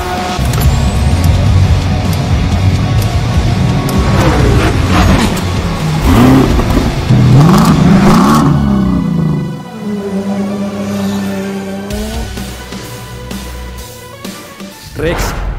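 A Porsche race car accelerates with a loud, close roar that climbs in pitch, then drops to a lower rumble, while someone speaks over the engine.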